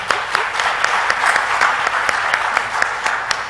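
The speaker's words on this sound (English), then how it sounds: "So a big round of applause to all of you" Sustained applause from a conference audience at a healthcare summit in Bahrain, a steady wash of clapping with a few sharper individual claps standing out close by.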